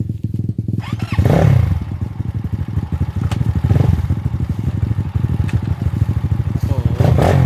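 Motorcycle engine revving hard and steadily on a damaged, rough road, its loud throbbing note continuous throughout, with scraping and clattering over the bumps and a brief voice near the start.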